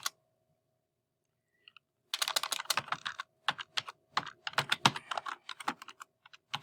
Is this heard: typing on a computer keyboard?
yes